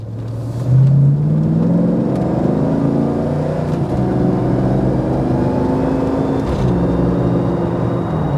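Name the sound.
1995 Range Rover engine accelerating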